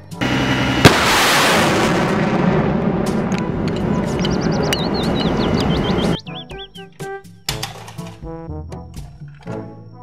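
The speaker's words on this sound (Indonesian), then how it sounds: "Mobil truk militer pembawa roket." Rocket launch from a military rocket truck: a loud roaring blast and rushing burst lasting several seconds, followed by scattered crackling pops and fading rumbles.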